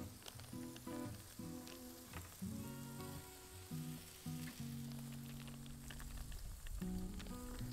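Bacon strips crackle and sizzle steadily in a pan set beside a barbecue grill, a soft continuous frying hiss with faint pops and bits of clatter.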